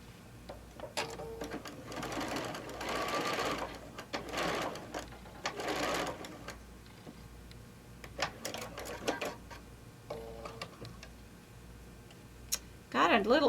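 A home sewing machine stitches crazy patch quilt block pieces in quick bursts of rapid whirring, separated by pauses and small clicks, close and moderately loud with some talk in between.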